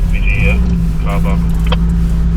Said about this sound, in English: it's a lot of cars coming here.